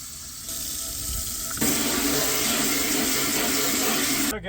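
A camper kitchen sink faucet runs steadily, the water stream strengthening partway through as hot and cold taps both open, a continuous close hiss and splash with no talking.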